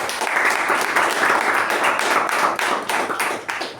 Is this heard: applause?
yes